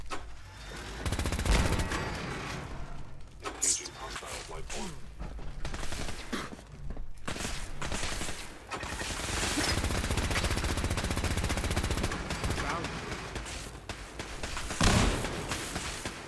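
Turret gunfire in Fallout 4, survival mode with heavy weapons, rapid loud bursts of automatic fire that come in long runs and stop now and then, broken by thuds and whooshes.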